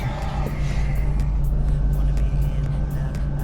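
A car just back from repair is taken for a test drive: a steady, close engine hum with low road rumble runs unbroken throughout, no talk over it.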